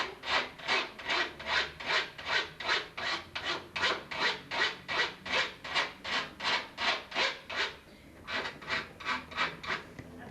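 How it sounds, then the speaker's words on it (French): A small hand file rasps along the edges of a metal etching plate in steady back-and-forth strokes, about twenty close, rhythmic scrapes with a brief pause partway through, and no voices. "préparer les bords avec une petite lime"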